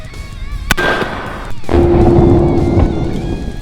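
A can cannon fires 5.56 blanks, giving a sharp, loud crack followed by a rumbling boom and a long, noisy tail. No one speaks.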